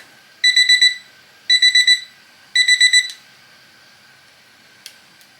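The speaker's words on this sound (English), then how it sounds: "our timer is going off" A kitchen timer going off in a kitchen while green beans are being pressure canned, with three loud bursts of rapid shrill beeps, then a faint click as it stops.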